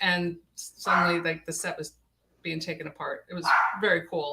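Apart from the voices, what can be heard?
dog barking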